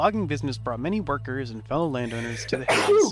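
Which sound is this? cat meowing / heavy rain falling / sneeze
sneeze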